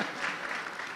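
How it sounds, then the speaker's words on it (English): Brief, dense applause from an audience at an international e-learning conference, steady and moderately distant with no distinct individual claps. "Please, let's clap for the slide 13"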